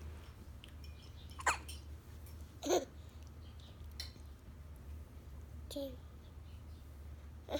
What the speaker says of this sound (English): Now our hiccups stopped.